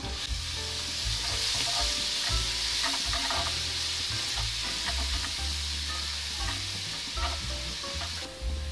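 Spices, cumin and turmeric, stirred and frying in hot oil in a pan for palak paneer, with a loud steady sizzle and repeated scraping strokes of the spoon close up, no talking.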